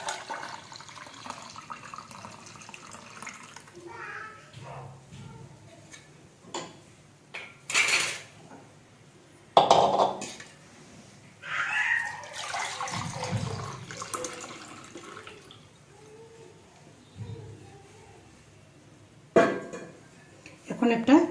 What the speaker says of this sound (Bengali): এখন দুধটা এখানে ঢেলে দিব